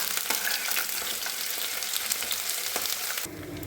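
Spices sizzle steadily in hot oil in a pan for a small-prawn and ash gourd ghonto, a dense, crackling fry with faint stirring scrapes, close and continuous with no talking.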